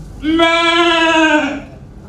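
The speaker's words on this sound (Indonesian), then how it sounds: "kambing itu bisanya cuma mengembek" A goat gives one long, loud, wavering bleat lasting over a second, close and alone, then stops.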